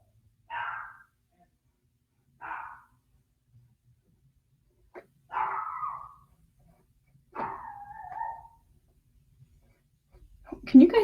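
A small Chihuahua barks in short, separate bursts heard at a slight distance from the microphone, about five barks spaced a couple of seconds apart, ending in a louder close noise.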